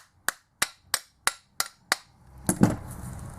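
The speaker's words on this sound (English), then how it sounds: "You give the front bracket a few taps." Metal tool tapping on a car alternator's front bracket to separate its halves: six sharp, evenly spaced close knocks, followed by a louder clatter with scraping as the parts loosen.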